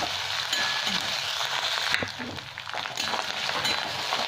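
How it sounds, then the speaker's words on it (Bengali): Ginger and garlic paste fries in a pot for egg biryani, giving a constant broad sizzle broken by scraping stirs and a light clink or two. "রসুন বাটা এক চামচ এখানে আদা বাটাটা দিয়ে দিলাম এটাকে এক দু মিনিট ভালো করে নেড়ে দিই"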